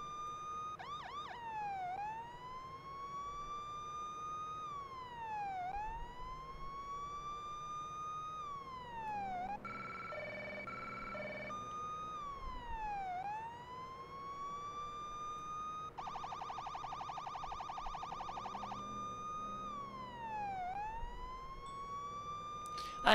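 A police car siren wails in long rising and falling sweeps, broken twice by short bursts of rapid yelping tone, holding a steady, moderate level with no voices over it.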